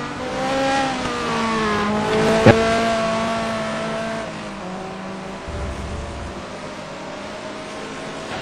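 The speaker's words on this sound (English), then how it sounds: "powering the mighty Saleen Mustang through these turns in the rain" Saleen Mustang race car roaring around the Spa track in the rain, its engine climbing and falling through gears with sharp rising whines, a brief crack midway, then a lower fading drone; one short spoken word.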